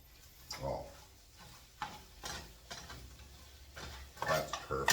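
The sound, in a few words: stirring food in a pan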